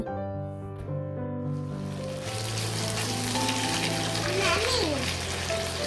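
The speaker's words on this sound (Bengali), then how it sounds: "হাই হিটেই চিকেনগুলো ফ্রাই করে নিব।" Marinated chicken hits very hot oil on high heat, and after a couple of seconds of quieter tonal background a loud, dense sizzle erupts and continues to the end.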